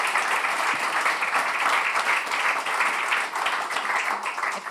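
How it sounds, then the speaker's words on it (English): Steady round of applause from an audience at a heritage-estate retrofit talk event, moderately loud, dense even clapping sustained throughout with no speech over it. "So if we could give everyone a round of applause."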